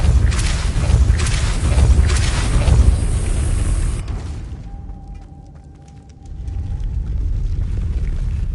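Depulso spell cast in Hogwarts Legacy: a heavy booming blast with rumbling mechanical rattle, followed by a quieter settling ambience and a faint sustained tone.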